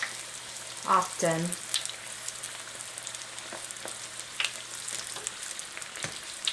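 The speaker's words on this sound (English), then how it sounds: "Now you have to stand back initially, it's gonna pop." Lumpia frying in hot oil, with a burst of loud pops early on settling into a soft, steady sizzle, while a person talks nearby.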